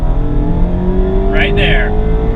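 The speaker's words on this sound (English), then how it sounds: "tuned 2-liter engine also sounds pretty sweet" The tuned 2-liter engine of a 2019 Mazda MX-5 Miata RF on a winding canyon road drones loudly and steadily while climbing slowly in pitch, with a brief higher chirp near the middle.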